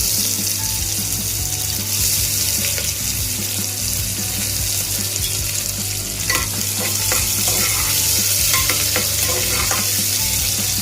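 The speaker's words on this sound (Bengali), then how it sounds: "পেঁয়াজটাকে লাল করে ভাজবো।" Sliced onions frying in oil after whole cardamom, cloves, cinnamon and dried chilli are tempered for a soybean dal, a loud continuous close sizzle with scraping stirs throughout, no voices.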